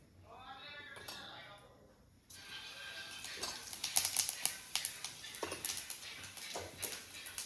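Cumin and mustard seeds temper in hot oil for a yogurt dish, popping and spluttering in rapid, irregular crackles up close after a quieter murmuring opening.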